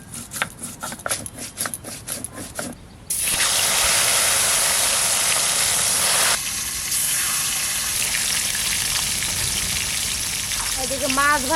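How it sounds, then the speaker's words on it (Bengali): Chital fish pieces fry in mustard oil in a wok. After some clattering, a sudden loud, dense sizzle bursts in and continues steadily, easing slightly partway through. "মাছ কটা ভেজে নেব তেল দিয়ে কড়াইতে, সর্ষের তেল"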